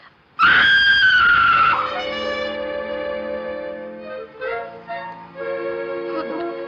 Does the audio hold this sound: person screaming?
yes